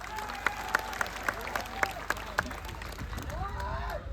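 Crowd at an AAP victory rally in Rajpipla claps together, with sharp regular hand claps over a steady murmur and a voice briefly sounding toward the end.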